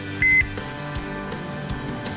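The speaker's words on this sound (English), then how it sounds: "As you can hear, our alarms have gone off." Two short, high electronic beeps from a meat thermometer probe alarm sound close together near the start, followed by soft clinking and faint thuds; no one speaks. A brisket cooking on a Kamado Joe II grill.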